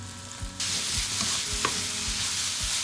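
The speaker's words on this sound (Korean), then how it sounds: "양념한 멸치를 넣어주세요." Seasoned anchovies hit a frying pan with cooking oil and sizzle loudly, with a spatula stirring and scraping through the steady frying hiss up close.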